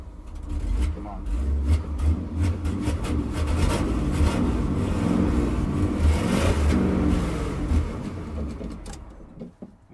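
A 1979 Chevrolet C20 truck engine revs hard and steadily for several seconds, rumbling loud and close, then cuts out abruptly near the end. Someone may be speaking over it.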